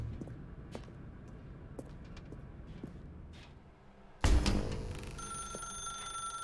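A telephone bell in the game The Stanley Parable starts ringing abruptly partway through, loud and sustained after a quieter stretch of faint ambient clicks.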